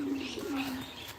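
Pet pigeons cooing softly at close range, a low steady murmur with faint chirps over quiet background, no talk.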